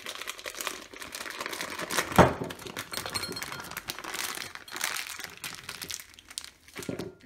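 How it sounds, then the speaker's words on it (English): A plastic piping bag full of icing crinkles and rustles as it is wiggled off a glass while cupcakes are decorated, a close, busy crackling texture with one sharper click midway and no speech. "wiggle the piping bag off the glass"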